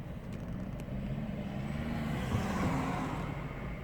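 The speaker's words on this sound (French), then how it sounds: "Il y a des voitures qui passent." Traffic rumbles by at a moderate distance on the Pont Alexandre III in Paris, a low steady roar of cars passing that swells slightly midway.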